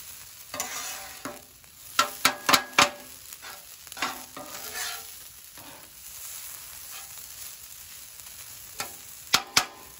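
Ribeye fried rice ingredients sizzling on a griddle, a soft steady fry broken by sharp metallic clicks and scrapes of a spatula stirring in small clusters.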